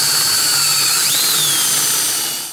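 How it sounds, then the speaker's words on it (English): A power drill fitted with a 3/8 inch bit drills out a star fangled nut inside a bicycle fork steerer tube, a loud, steady high whine running continuously before trailing off at the end. "So I'm gonna try a 3/8 inch drill bit and see how that works."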